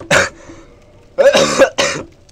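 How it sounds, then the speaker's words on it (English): Three harsh, close coughs in quick succession from a person, the first short and the last two longer and raspy, separated by brief pauses. "Keep coughing, what the hell?"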